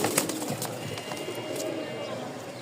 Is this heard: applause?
no